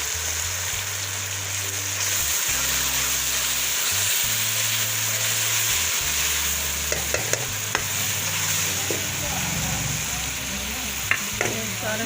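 Tomato paste fries in a karahi for chicken karahi with a continuous close sizzle, low bubbling hum and a few sharp utensil knocks near the end.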